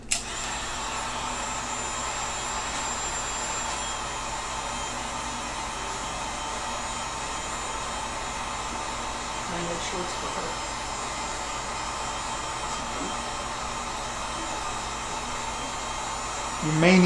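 A heat gun roars continuously, a steady close-up blowing hiss with a faint hum, while heating the end of a PVC pipe to soften it for flattening.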